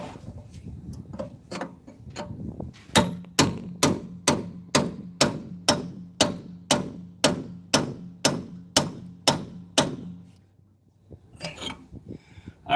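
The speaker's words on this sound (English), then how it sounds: "there's not a whole lot of room to swing this sledgehammer in here" A sledgehammer repeatedly strikes the cab bushings of a 2009 International truck in a cramped space, about nineteen sharp metallic blows at a steady rhythm, loud and close, with some scraping before and after.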